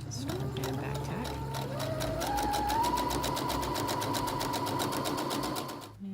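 A sewing machine stitches a seam with a back tack, its motor whirring in a fast steady rhythm of needle strokes that rises in speed and then stops, close and fairly loud.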